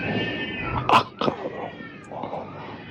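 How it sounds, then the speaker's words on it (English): A cat yowls in a few drawn-out, wavering cries with brief gaps, fairly close and moderately loud. "That sounds like a cat."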